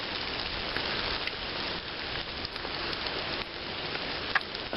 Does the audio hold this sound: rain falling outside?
yes